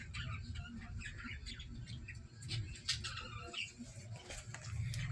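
Birds in a cousin's backyard pet garden chirping and squawking in quick, repeated bursts at middle distance over a low, continuous background rumble.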